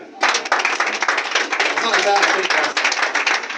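A church congregation claps together steadily throughout a thanksgiving service, a dense, loud run of overlapping hand claps with a voice audible under the applause.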